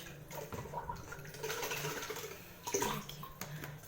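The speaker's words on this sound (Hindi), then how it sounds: "ये देखिए मेरी बॉटल में ये बहुत सारे ये है अटक गए हैं, तो इसे भी मैं पहले एक बार अच्छे से धो लेती हूँ।" Water splashes and swirls as a plastic bottle is rinsed out under running water, a close, continuous gurgling wash with a few sloshing surges.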